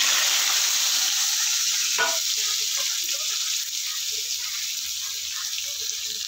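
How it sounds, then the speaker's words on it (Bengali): Potatoes fry in fish oil in a pan, giving a steady close hiss of sizzling with small crackles and one brief stir. "তো এখন আলুগুলো আমি ভেজে নেব।"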